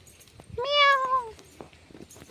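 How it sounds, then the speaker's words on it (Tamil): A single clear cat meow, a rising then falling cry lasting about half a second, heard fairly close at a temple tank (Theppakulam) in Avudaiyar Kovil where cats lie around, with faint background noise. "பூனையெல்லாம் படுத்துருக்கு."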